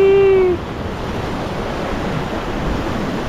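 Ocean waves off Palawan grow bigger while fishing from a boat, a continuous broad wash of surf and wind rushing close by after a brief high tone fades at the start.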